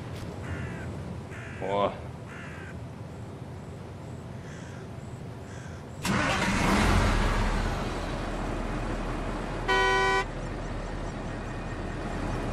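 A tractor in a farming simulator game kicks into a low, steady engine rumble halfway through, after a stretch of crows cawing in the background, with a brief horn toot near the end.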